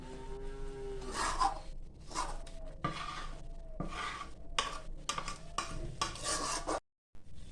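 Sabudana khichdi stirred in a pot after coriander leaves go in, with repeated scraping and clinking of a spoon against the metal, a short pause near the end and no one talking.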